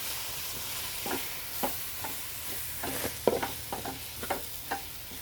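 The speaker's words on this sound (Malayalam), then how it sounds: "ഇതൊന്ന് മിക്സ് ചെയ്ത് കൊടുക്കാം." Biryani masala with turmeric and chili powder stirred in a pan at home, a soft steady sizzle beneath repeated close scrapes and taps of a spoon against the pan.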